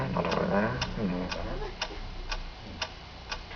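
A clock-like ticking from a puppet comedy sketch keeps a steady half-second beat of crisp ticks, first under a singing voice and then nearly alone as the voice fades.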